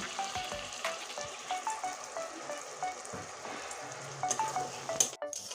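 Onion, garlic and dried red chilli sizzling and frying in a pan with salt for an aor fish curry with potato and green tomato, a steady close crackle with light stirring clicks and scrapes throughout.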